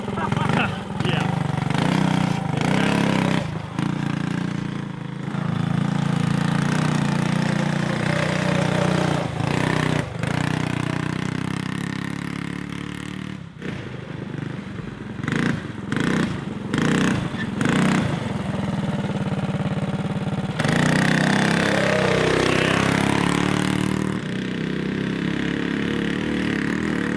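A monster truck kart fitted with 25-inch ATV tires idles and runs nearby, its small engine droning steadily with a few revs, while people talk over it.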